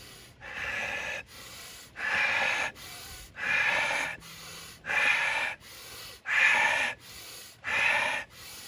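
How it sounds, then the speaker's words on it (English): Deep breathing exercise with a run of repeated breaths, seven strong forceful inhale-exhale bursts in a steady rhythm about one second apart, close and loud with short quiet pauses between. "Let's do 10 breaths."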